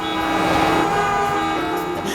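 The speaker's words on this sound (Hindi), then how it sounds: "गाड़ियों के कितने हॉर्न बज रहे हैं" Cartoon traffic jam where several vehicle horns blare together in a loud, sustained, tonal chorus with no gaps, like a dense wall of honking on a busy polluted street.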